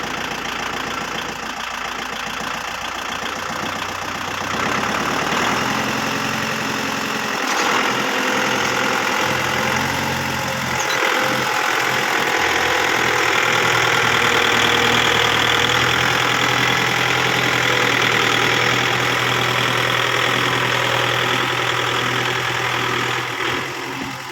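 Kubota 55 hp tractor engine running steadily in extra first gear, a continuous loud diesel drone with a knocking, vibrating idle-like rhythm, close by and alone with no talk.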